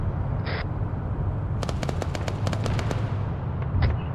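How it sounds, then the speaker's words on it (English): An Arma 3 fighter jet strafing run during a tank battle sends a fast string of about a dozen sharp cannon cracks, fairly loud over a steady low engine rumble, ending in a brief whoosh. "We're being strafed by enemy fighter jets."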